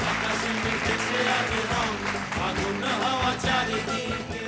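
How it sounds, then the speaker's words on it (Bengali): A studio audience at a Bengali family game show claps, a dense wash of applause close and loud, with music-like tones running underneath and no clear talk. "জোরে হাততালি।"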